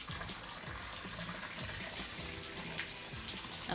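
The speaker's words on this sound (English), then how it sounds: "And then I'm gonna turn our water on." Water runs steadily from a Delta T17T shower faucet, a continuous close rushing hiss with no voices over it.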